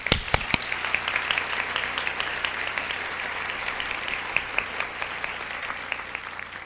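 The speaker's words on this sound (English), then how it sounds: "I think we need to give them a round of applause." A round of applause from guests at a charity benefit luncheon, sharp individual claps at first that swell into a steady, moderately distant clapping crowd sustained throughout.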